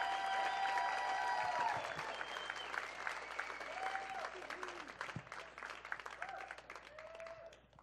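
An audience at a music festival concert applauds to welcome a performer onto the stage, a dense wash of clapping and cheering that stays loud at first and then gradually thins and tapers off.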